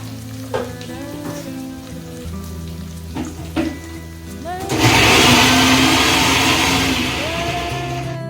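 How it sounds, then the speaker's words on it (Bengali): Paneer hits hot oil in a wok and breaks into a loud, steady sizzle after a few light clinks and a low background hum. "আর পনিরগুলো ভাজবো পনিরগুলো কম কম করে ভাজলে ঠিক ভালো হবে"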